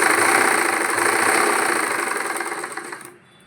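A sewing machine runs steadily and close up while stitching a Punjabi pant box, its motor whirring loudly for about three seconds before cutting off abruptly.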